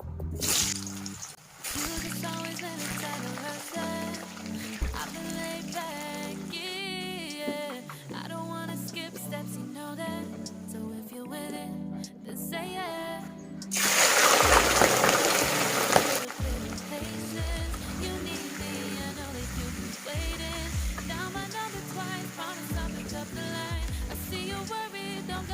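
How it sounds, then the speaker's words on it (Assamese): Potatoes hit hot oil in a pan, and a sudden loud hissing sizzle rises for a few seconds over steady background music before fading back down. "এতিয়া তেল গৰম হ'ল মই ইয়াত দিম আলু"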